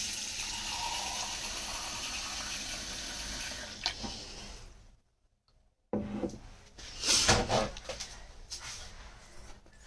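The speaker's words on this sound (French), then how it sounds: "je vais me servir un petit peu d'eau. Donc si vous entendez l'eau, c'est moi" Water is poured into a glass at a table, a close splashing trickle that stops abruptly partway through, leaving a short silence before faint handling noises and another brief burst of pouring follow.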